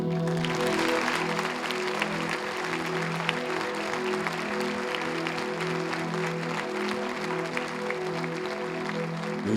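A church congregation applauds steadily and evenly, a dense wash of clapping from many hands that stays moderately distant and fairly quiet throughout.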